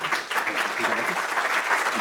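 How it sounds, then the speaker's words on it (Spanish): Audience applause at a formal award presentation during an academic talk, steady dense clapping from a seated crowd filling the whole stretch at even loudness. "y un aplauso,"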